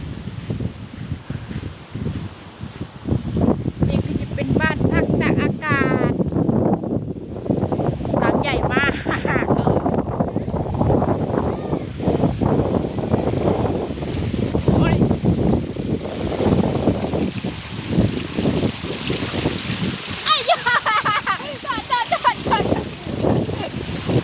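Wind buffets the microphone on the sea shore at Prachuap beach, with a steady rush of surf and waves underneath while people talk nearby through most of the stretch.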